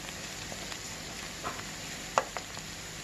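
Cabbage pakoda pieces deep frying in hot oil give a faint, steady sizzle with a few brief pops and crackles rising out of it, and no one speaks.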